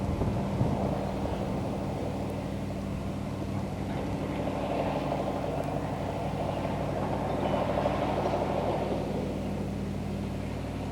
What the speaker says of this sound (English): it is blowing wind up here.